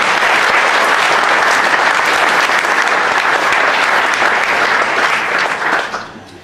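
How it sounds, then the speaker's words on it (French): Loud, sustained applause from a gathered crowd welcomes a guest at a celebration in Plouvien, dense steady clapping that fades out in the final second. "Je vous demande également de l'accueillir par des applaudissements."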